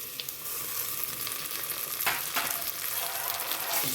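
Vermicelli frying in a pan for pongal, a steady moderate sizzle with a few sharp stirring scrapes and spatula knocks, no talking.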